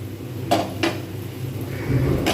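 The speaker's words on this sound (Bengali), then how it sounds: "একটু ঢাকনা দিয়ে দেবো আবার ফের খুলে এবারে খুলে দেখবো" Metal clatter of a pan lid lifted off frying prawns, a few sharp clinks and scrapes against cookware, close by, with a low background hum.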